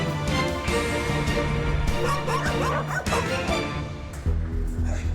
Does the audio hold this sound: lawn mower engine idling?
no